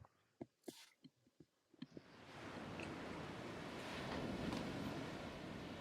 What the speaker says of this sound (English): You are greeted to the sound of crashing waves as you step out of this magical portal